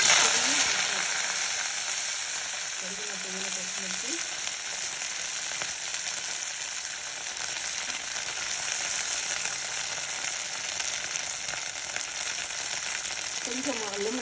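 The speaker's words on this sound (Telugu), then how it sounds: "తాలింపులో జీలకర్ర వేసాను" Cumin seeds sizzle in hot oil as the tempering for a simple mint chutney, giving a steady, fairly loud frying hiss that runs the whole time, with faint background sounds underneath.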